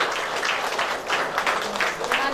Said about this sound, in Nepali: जोरदार तालीले कार्यक्रमको समूह उद्घाटन गर्नको लागि म हार्दिक अनुरोध गर्दछु